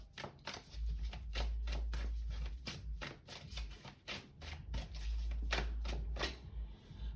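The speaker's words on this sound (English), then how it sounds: "So I'm just going to pull a few of the Ancestor Spirit Oracle cards." Ancestor Spirit Oracle cards being shuffled close up, a quiet, steady series of crisp riffling flicks and taps repeating at an even pace, alone without talk.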